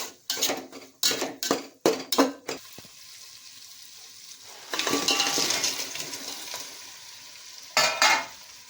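Sliced onion frying in a pan while being stirred, first in a quick run of rhythmic scraping strokes, then a softer sizzle, then a last pair of strokes near the end.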